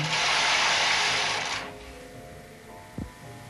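A Bond knitting machine's carriage sweeps across the needle bed in one loud, broad rasping slide lasting about a second and a half, then quiets, followed by a single soft knock.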